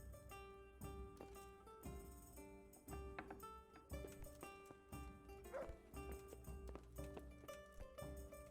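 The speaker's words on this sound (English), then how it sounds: "My dog." A dog barks in Kingdom Come: Deliverance with a few faint, scattered barks over a steady layer of background music.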